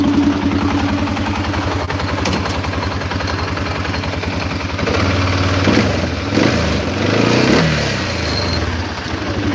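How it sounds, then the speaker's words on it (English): A 2017 Arctic Cat VLX 700 engine idles with a steady low putter, then is revved briefly a few times, rising and falling close up, with no talking. "I'll give it a little rev."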